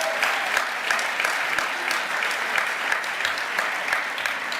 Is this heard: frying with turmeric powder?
no